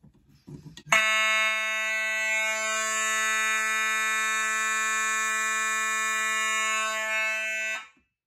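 An older Simplex fire alarm, key-operated, blares a loud, steady electronic tone continuously for several seconds during a test after a brief fumbling noise, then cuts off.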